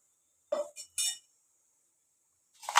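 A metal kadai pan is set down on a kitchen stove, giving a few short, bright clinks and knocks close by, followed by quiet and another clatter at the end.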